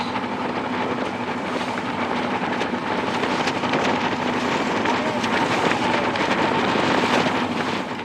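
Strong wind sweeping across a sandbank of the Padma river, a loud, constant roar and rumble of gusts buffeting the microphone throughout.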